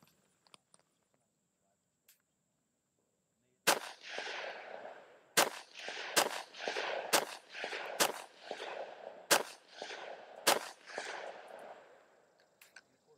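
A selective-fire rifle with a 40-round magazine fires after a quiet pause: sharp single semi-auto cracks, then bursts of full-auto fire, loud and close, each shot ringing into a noisy tail.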